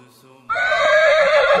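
A horse whinnies loudly and close by, a sustained wavering neigh starting abruptly after a brief quiet lead-in and holding strong to the end.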